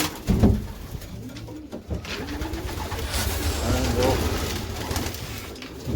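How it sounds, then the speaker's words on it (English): Pigeons coo softly in overlapping calls, with bursts of wing flapping and rustling nearby, while a person speaks briefly in the background. "it's time to release the birds."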